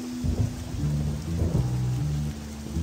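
Steady rain pours down while low rumbling thunder rolls in several swelling waves in the dark nighttime setting of the Little Noir Stories video game, with no talking.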